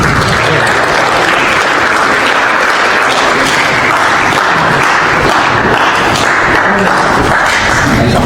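A loud round of clapping from a youth meeting audience, many hands clapping together in a dense, continuous burst close by, with no speech over it.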